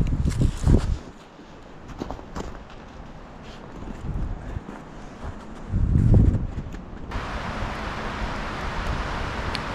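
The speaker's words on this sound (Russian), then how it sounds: "Ветер сегодня капец." Strong wind gusts roar through a forest, with heavy buffeting and microphone rumble, lulls in between and a few rustles, loud and close, with no talk.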